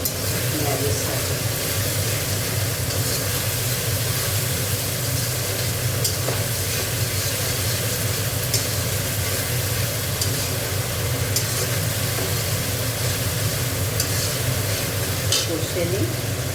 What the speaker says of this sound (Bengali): এটা একটুখানি কষে নেব পেঁয়াজের সাথে